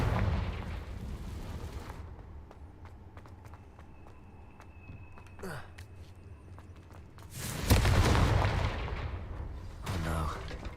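Confringo fire-blast curses cast in a Hogwarts Legacy fight with an eight-legged spider creature, heard as several loud crackling bursts separated by quieter stretches with scattered taps and footsteps.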